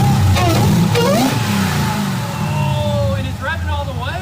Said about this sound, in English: Oh, and it's revving all the way, dude.